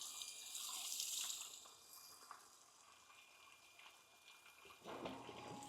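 Fresh water pumped through a tankless water heater during a vinegar flush, a faint rushing and splashing flow that swells, eases off, then surges again near the end.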